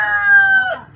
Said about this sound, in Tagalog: Ayun, manok na naman.